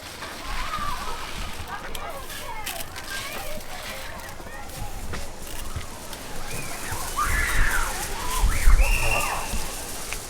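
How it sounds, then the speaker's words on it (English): Water splashes and sloshes onto garden plants during watering after a top dressing of Epsom salt, a continuous close pour that swells louder toward the end while a person talks over it. "When I'm ready to water off, always just water that in."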